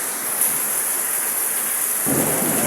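Steady rain hisses throughout, with a deep rumble of thunder swelling near the end, loud and continuous with no voices.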